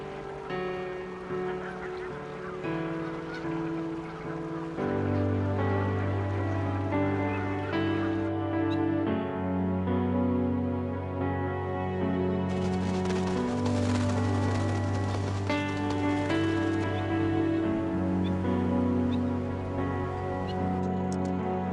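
Wild birds bathing in water, with a steady, continuous sound of splashing and moving water and some honking calls running through it at close range, with no talking.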